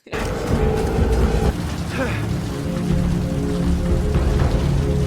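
Steady rain hiss and patter from a Battlestar Galactica scene, loud and continuous throughout, with voices speaking over it.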